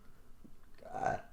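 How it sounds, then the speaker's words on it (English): A single burp after drinking soda, a low rumbling eructation swelling near the end, close and moderately loud with no talk. "God, I'm burping."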